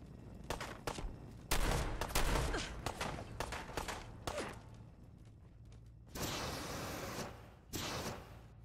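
Gunfire in the Fallout 4 video game: repeated sharp shots and bursts of automatic fire at moderate volume, with a couple of longer hissing blasts near the end.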